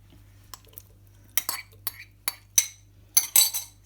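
A spoon clinks and scrapes against a bowl as bulgur wheat salad with lemon juice is mixed, giving a series of short, close metallic taps that grow busier and louder toward the end.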